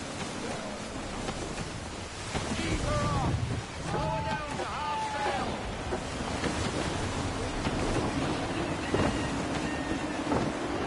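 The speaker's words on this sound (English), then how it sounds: "Gusty winds can be difficult to manage." In Assassin's Creed 3, gusty wind sweeps across open sea around a sailing ship, a loud, rushing roar mixed with surf, while a voice speaks over it partway through.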